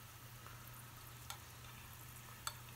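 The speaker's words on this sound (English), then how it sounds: "now I'm gonna spoon some of my beautiful garlic oil into the pan and get my shallots cooking" Shallots frying in garlic oil in a pan: a quiet, steady sizzle throughout, with a couple of faint clinks of a utensil.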